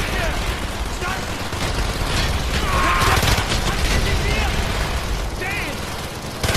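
Dense gunfire from the video game Call of Duty Black Ops, with rapid automatic bursts and booms layered into a loud, continuous battle din, while voices shout over the shooting.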